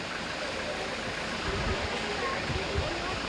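Waterfall at a rock garden, a steady broadband rush of falling water that holds evenly throughout, with faint low rumbles and some background activity underneath.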